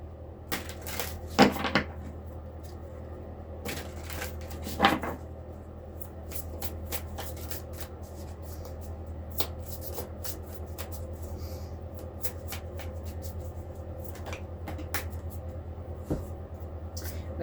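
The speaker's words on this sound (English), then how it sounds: "We're going to have to shuffle a little more, I think." Tarot cards being shuffled by hand, a soft papery riffling with a couple of louder flicks near the start, faint and close over a steady low room hum.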